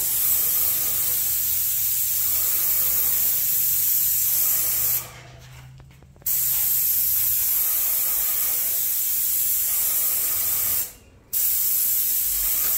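A Vevor 450 airless paint sprayer sprays in long, steady, loud hissing bursts, cutting off briefly twice as the trigger is released, close by with no speech.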